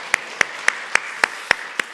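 A church congregation at a Sunday service claps in unison, seven sharp, evenly spaced claps at a steady brisk beat with nothing else around them.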